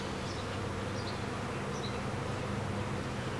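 A swarm of honey bees, being transferred into a top bar hive, fills the air with a dense, continuous buzzing hum, steady and close, with no voices.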